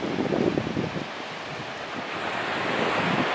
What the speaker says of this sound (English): Decided to come back to the beach,